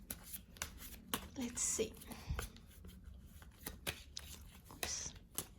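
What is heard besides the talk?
shuffling tarot cards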